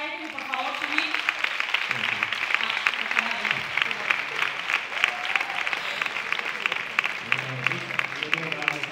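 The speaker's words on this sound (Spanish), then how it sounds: "Un aplauso para ellos y por favor subid." Steady, fairly loud applause from an audience at a short film festival gala in Castilblanco, sustained throughout with a few voices speaking underneath.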